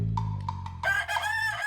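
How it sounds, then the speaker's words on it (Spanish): A rooster crows at a live cumbia show, its call rising over loud band music and crowd noise in a short, busy burst. "Ahí está el gallo."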